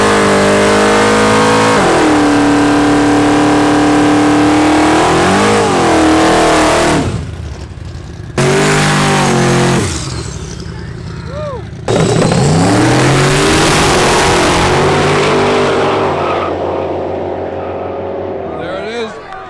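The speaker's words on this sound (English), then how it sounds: "Left lane won. Damn, that car is fast." Small-tire drag cars launch and roar down a legal street-race strip, loud engines revving hard in several surges and fading into the distance, with excited spectators shouting over the noise.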